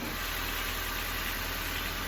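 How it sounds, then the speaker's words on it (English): A car engine idles in a small garage after an oil change, giving an even, continuous hum with a faint vibrating rattle throughout a short stretch. "Now we're going to turn the car on, let it run for a moment."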